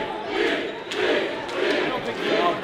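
Wrestling event crowd chanting in rhythmic waves, a loud mass of voices rising and falling across the arena in repeated bursts.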